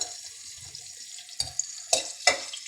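Onions frying in a pan for chicken pulao, a steady soft sizzle with a few sharper scraping stir strokes near the end, close and with no talk.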